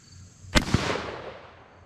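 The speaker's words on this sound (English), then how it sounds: "I definitely did not center that shot." A single sharp report from a 20 gauge Mossberg 185K shotgun with a full choke firing number 4 shot outdoors, followed by a quick echo and a decaying rumble.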